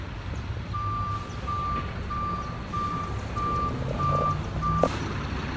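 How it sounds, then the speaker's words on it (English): Delivery truck backing up on a city street, its reversing alarm sounding seven evenly spaced loud beeps over engine rumble and traffic noise, ending with a short hiss of air brakes. "he's literally stopped on the street and he's blocking traffic and he's gonna back in"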